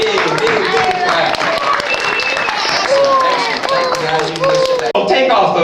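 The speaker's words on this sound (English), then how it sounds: "T-Man, Sophie, and Hannah, a big, big, big clap." Clapping at a child's sixth birthday party at an indoor venue, a busy, close mix of hand claps with excited children's voices and shouts layered over it throughout.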